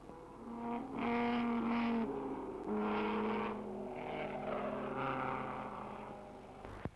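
Vintage sports cars race at Donington Park, several engines droning and climbing in pitch as they pass, faint and somewhat distant on an old recording.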